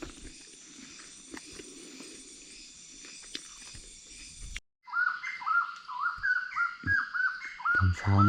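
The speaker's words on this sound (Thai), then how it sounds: "ตอนเช้าเนะก็มีเสียงนงแต่ออกแล้ว เสียงนกกำลังตื่น" Birds chirp and call in a forest at dawn, at first faint and distant over a hiss, then clearer and closer with repeated bright tweets and trills, and no talk.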